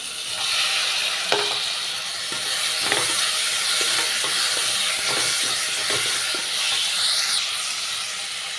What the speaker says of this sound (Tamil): தக்காளி வந்து நல்லா வதங்கி வரட்டும்